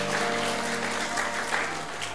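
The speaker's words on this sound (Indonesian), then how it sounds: "Tepuk tangan untuk Tuhan Yesus." Congregation clapping together in a church service, a steady, dense wash of applause filling the room from start to finish with no pauses.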